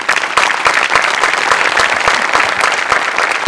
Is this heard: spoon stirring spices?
no